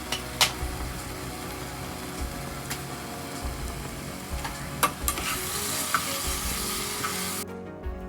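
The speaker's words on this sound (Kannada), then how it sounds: "ಚಿಲ್ಲಿ ಪೌಡರ್, ಗರಂ ಮಸಾಲ, ಅರಿಶಿನ ಪುಡಿ, ಧನಿಯಾ ಪುಡಿ ಹಾಕ್ಕೊಂಡು ಎಲ್ಲ ಸ್ವಲ್ಪ ಮಿಕ್ಸ್ ಮಾಡ್ಕೋಬೇಕು" Chilli powder, garam masala, turmeric and coriander powder sizzle as they are stirred into an egg curry base in a pan, with steady frying hiss and occasional spoon scrapes and clicks, ending in a sudden cutoff.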